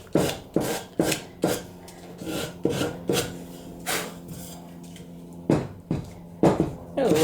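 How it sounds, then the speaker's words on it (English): A sanding block works the corners of a wooden trivet in a string of about ten short, close, rasping strokes in an uneven rhythm, with brief pauses between passes. "I'm going to do a light sanding on these corners."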